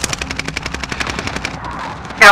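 Rapid automatic gunfire in a video game, a fast run of sharp close shots in a steady rhythm that thins out, then a louder burst at the end.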